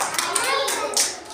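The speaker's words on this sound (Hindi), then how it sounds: "चलो ताली बजाओ" A few children clap their hands in short, uneven bursts, close by, with a little chatter mixed in.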